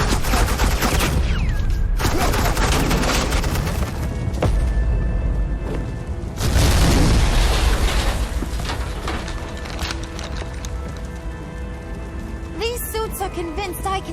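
Sustained video-game gunfire from Batman: The Enemy Within, loud, dense volleys and booms rolling on for several seconds, with mechanical clanks and character voices speaking over the action.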